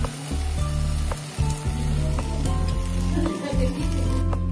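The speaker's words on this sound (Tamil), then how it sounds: "பாதாம் முந்திரிய அடுப்பில் ஆட் பண்ணுதேன் நெய்யோடு சேர்த்து அப்படியே ஊற்றணும்" Almonds and cashews fried in ghee poured into a pot of milkmaid payasam, a loud, dense, continuous sizzle heard close up without pause and with no speech.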